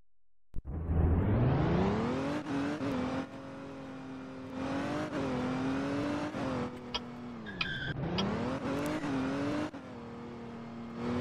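A Bugatti in a video game roars through repeated revs and gear shifts, its engine note climbing and dipping continuously at close range with a brief tire squeal, loud and steady with no talking.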